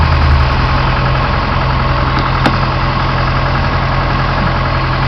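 A carbureted Dodge 2.2 four-cylinder engine idles steadily, a loud continuous low rumble with an even throb and no speech, heard close up.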